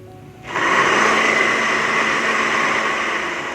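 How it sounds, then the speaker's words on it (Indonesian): An electric blender blending spices with a little water starts up after a brief quiet moment and runs steadily at a loud, even whir, slightly easing toward the end. "Dan ini yang mau di blender saya mau kasih sedikit air biar lebih gampang."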